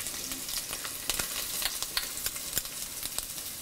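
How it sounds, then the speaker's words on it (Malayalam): Crushed shallots, ginger, garlic and curry leaves sautéing in a pan for a sardine curry, a continuous sizzle with frequent sharp crackles and spatters, no voices. "3 തണ്ട് കറിവേപ്പില എന്നിവയിട്ട് വഴറ്റുക. ഇത് നന്നായിട്ട് വഴലണം."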